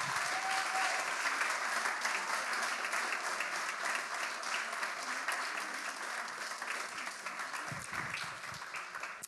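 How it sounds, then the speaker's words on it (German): Sustained applause from a large audience, a continuous roar of clapping that tapers slightly toward the end, with a faint voice briefly surfacing. "ja, wollen wir einen Applaus geben."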